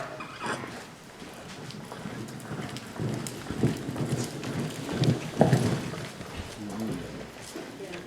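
A horse loping on a working surface during a riding session, its hoofbeats a soft, uneven rhythm close by with a low background rumble and no clear talk over them.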